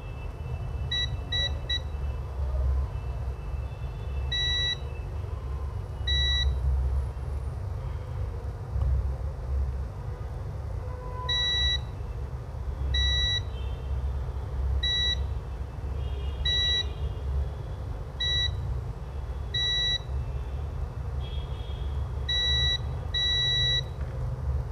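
Multimeter continuity tester on a capacitor being checked for a short, giving short sharp electronic beeps at irregular intervals, some in quick pairs, over a low steady background hum.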